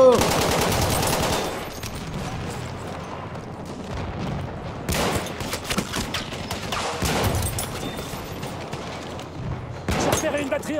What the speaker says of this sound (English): Mitrailleuse ennemi, par là!